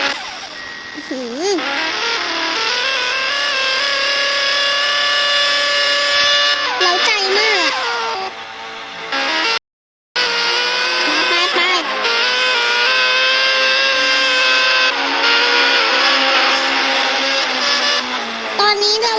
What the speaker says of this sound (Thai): ฮอนด้าแบบซิ่งแบบนี้ ดูดิดูเสียงเนี่ย